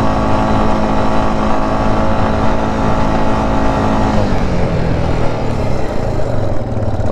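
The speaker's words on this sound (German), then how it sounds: "Und da hinten lege ich jetzt mal einen kleinen Drift ein." A quad bike engine runs loud and steady out in the desert dunes, its buzzing drone shifting in pitch partway through as the rider slides into a drift, close up with no talking.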